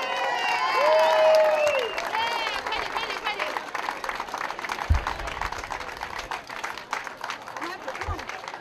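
Crowd clapping and cheering for a dragon boat race team at an outdoor race event, with whoops and excited voices over it at first, then a looser patter of claps with chatter underneath.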